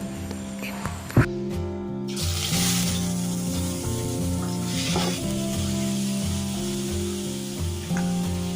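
Mustard seeds sputter and pop in hot coconut oil for a Kerala papaya mezhukkupuratti, a steady loud sizzle with stirring over a low, continuous hum, with one sharp clatter near the start.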